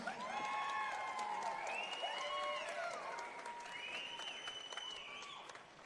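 Crowd applause at a fight event, a sustained wash of clapping and cheering with whistles and whoops rising over it, loud at first and then easing slightly.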